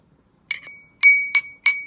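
A drinking glass holding a little water is tapped very lightly, giving four bright, high-pitched clinks with a sustained ringing tone, spaced unevenly and heard up close with no one talking.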